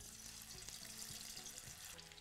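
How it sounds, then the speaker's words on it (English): Breakfast potatoes fry in a pan of hot oil at 325 degrees, giving a soft, steady sizzle with faint watery crackle, fairly quiet and without any talk. "Next, I'm going to start frying up the potatoes."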